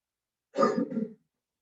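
A single short, raspy throat clearing with a brief cough, close and alone against silence.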